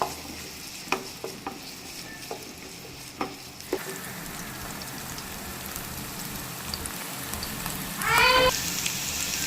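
Onions sautéing in a pan until golden, a steady soft sizzle with a few utensil clicks and stirring scrapes, close by, ending in a brief louder burst of frying.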